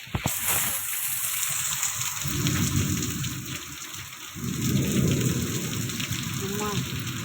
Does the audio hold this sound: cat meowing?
no